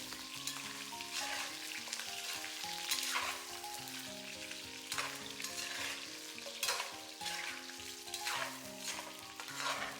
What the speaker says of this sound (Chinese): 中火慢慢煸炒。